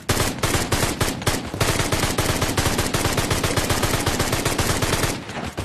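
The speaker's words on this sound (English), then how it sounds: "Oh, no, my minigun! Come on, the minigun." Continuous rapid minigun fire in a plastic-soldier kitchen battle video game, a loud dense rattling burst running almost the whole time with only a brief dip near the start, no talking over it.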